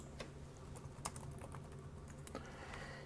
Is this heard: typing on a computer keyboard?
yes